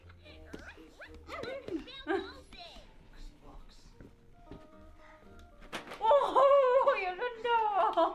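A dog whimpers and yips in a high, wavering burst near the end, following soft mixed voices and scattered noises earlier, fairly quiet overall.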